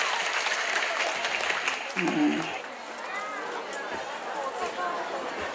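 A crowd of women at an Islamic religious gathering in Ponorogo gives steady applause to prize winners, a broad, moderately loud wash of clapping mixed with chatter and voices.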